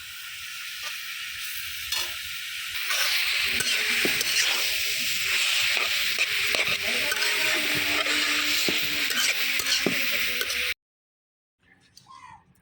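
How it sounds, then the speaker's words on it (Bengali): Bottle gourd leaves fry in a pan with onion, giving a steady close sizzle and hiss with occasional stirring clatter, then a brief silence and a quieter bit of handling. "এখন আমি শাকগুলা ভাজা ভাজা করে নেবো একদম"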